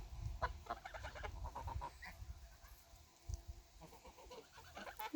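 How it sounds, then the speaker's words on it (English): Farm geese calling in a scatter of honks and clucking calls, at moderate distance and fairly faint, with outdoor background and no talk. "I really like my geese."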